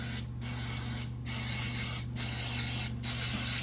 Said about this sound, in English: So the first thing we're going to do is spray these cups down.